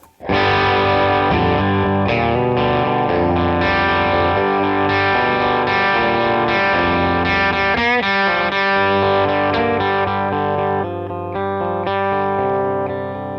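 An electric guitar played through overdrive, thick, sustained, crunchy chords ringing out steadily and loudly with no voices.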